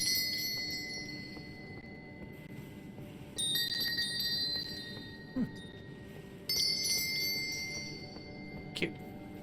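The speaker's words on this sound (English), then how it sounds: "Yeah, there's little stakes in the ground." Small bells strung on stakes in the ground jingle in the Elden Ring video game, a few bright tinkling bursts over a steady game background hum, with faint voice-like activity beneath.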